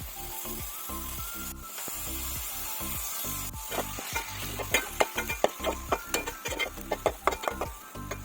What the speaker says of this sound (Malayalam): തക്കാളി ഇഞ്ചിയും വെളുത്തുള്ളി എല്ലാം ചേർത്തിട്ട് പെട്ടെന്ന് പെട്ടെന്ന് നമ്മൾ റോസ്റ്റ് ചെയ്ത് എടുക്കുകയാണ്